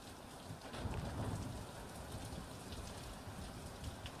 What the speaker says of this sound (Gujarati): વરસાદ સતત વરસી રહ્યો છે